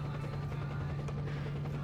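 A helicopter in the video game Point Blank 2 gives a steady, droning rotor hum with a low tonal whine, held continuously and fairly close with no talk over it.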